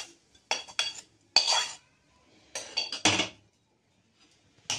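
Chopped fenugreek leaves being worked into flour dough for methi mathri snacks: short, close scraping and clattering strokes in a bowl, in uneven bursts separated by quiet pauses, with no talking.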